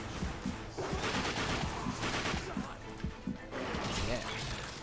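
Rapid gunfire from The Darkness 2, dense bursts of shots with impacts and crashes mixed under someone talking over the action.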